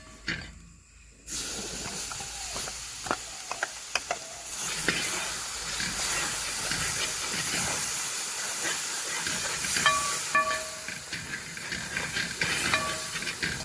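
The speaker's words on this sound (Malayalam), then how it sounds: "ഇനി മിക്സിയിൽ അടിച്ചെടുത്ത പേസ്റ്റ് ഇട്ട് കൊടുക്കാം" A blended onion and tomato paste hitting a hot pan for a spicy sardine curry, a loud sudden hissing sizzle that settles into a steady, strong steam-like hiss with faint stirring clinks.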